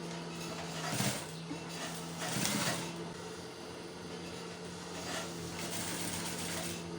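A sewing machine stitches a trouser waistband with a steady mechanical whir and hum, with a couple of brief louder runs near the start, heard close with no talk.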